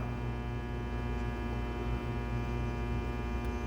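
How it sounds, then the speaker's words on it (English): Armature growler coil switched on, giving off a steady, even electrical hum with a buzzy, harmonic-rich drone that holds unchanged throughout, faint but continuous, with no voices. "turn it on, and the growler is just basically a giant field coil"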